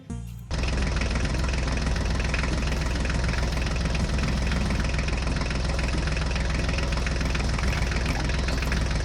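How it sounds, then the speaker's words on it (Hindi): A toy Eicher tractor engine kicks on after a brief click and runs in a loud, steady, buzzy mechanical drone with a fast knocking pulse, close and continuous without talk. "चलो चलो ड्राइवर जल्दी से आगे चलो और आयशर ट्रैक्टर के टायर को ढूंढो"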